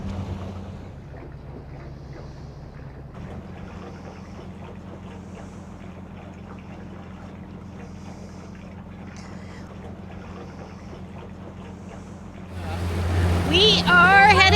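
Steady low wind rumble around a Nordhavn 50 motor yacht at anchor, with a strong northerly blowing, continuous and even before a louder rushing gust swells near the end.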